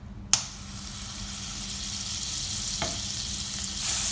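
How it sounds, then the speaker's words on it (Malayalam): A tablespoon of butter melts in a hot pan over medium flame for white sauce pasta, a soft steady sizzle after a sharp clink, close and alone with no talking. "ഇനി നമുക്ക് ഈ same പാനിലോട്ട് 1 table spoon butter add ചെയ്യാം."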